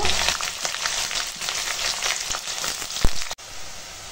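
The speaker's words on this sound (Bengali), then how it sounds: "পেঁয়াজ দিয়ে দিলাম। তরকারিটা রান্না করবো, পেঁয়াজটা ভেজে নেব।" Onions frying in hot oil after a bay-leaf tempering produce a loud, close, continuous sizzle with a brief clatter near the end, and nobody speaks.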